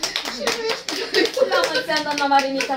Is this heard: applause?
yes